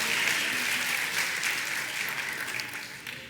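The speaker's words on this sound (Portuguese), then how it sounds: "Aplauda o Senhor, aplauda mais forte, mais forte, mais forte." A church congregation applauds, a dense sustained wash of many hands clapping that carries through and gradually tapers slightly, with no talking over it.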